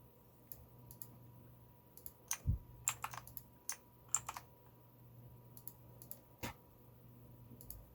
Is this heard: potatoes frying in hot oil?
no